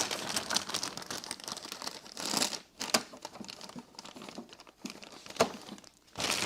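A plastic bag crinkles and crumples as it is fitted into the canister of a Festool CTM 36 E AC Renofix mobile vacuum, close and irregular rustling bursts with brief pauses.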